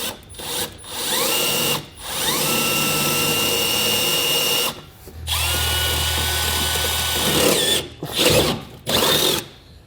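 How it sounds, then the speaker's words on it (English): A power drill enlarges holes in the body of a 2016 Ford Transit T250 cargo van, whining loudly and close in several bursts that rise and stop, with brief pauses between cuts. "just to help you when you're drilling them out"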